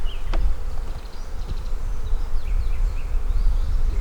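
Honeybees buzz steadily around an opened hive in spring, a dense, close hum of many insects with individual bees flitting past.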